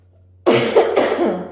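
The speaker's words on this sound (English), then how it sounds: "So, I'm going to clear my throat again." A hoarse adult clears their throat with one rough, close burst, then a second gravelly rasp follows a moment later, loud and alone against a quiet room.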